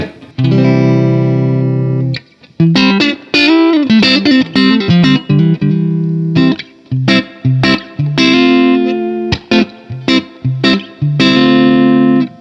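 A clean electric guitar, fitted with an Ernie Ball Expression Tremolo, plays a phrase of sustained notes and quick picked runs, bright and undistorted, loud and close with no other sounds.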